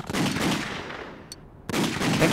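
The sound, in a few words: gunfire in video game The Godfather: Don's Edition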